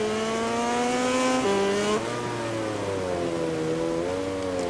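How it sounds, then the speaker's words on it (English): A Honda racing motorcycle in the MotoGP 20 video game, wet Motegi circuit, screams loudly with a high, sustained engine whine that shifts pitch through gear changes, alone with no talk. "I can hear that Honda closing in already."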